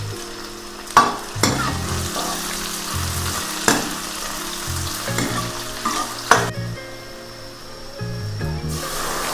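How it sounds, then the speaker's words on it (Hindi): Garlic and onion frying in hot oil for a buttermilk curry, a steady sizzle with several sharp bursts and stirring clatters as the pan is worked, close by with no talk. "तो इसमें सबसे पहले लहसुन प्याज का तड़का लगाते हैं"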